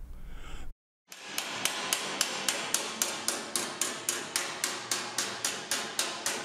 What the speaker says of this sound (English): Finally, the bead is smoothed on a round T-anvil.